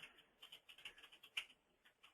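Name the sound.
typing on computer keyboard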